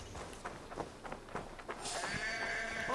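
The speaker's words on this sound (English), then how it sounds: "That sheep yet again was" Sheep bleat in Assassin's Creed Valhalla, a few short close calls over a rustling game soundscape that thickens toward the end.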